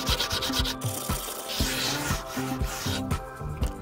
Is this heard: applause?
no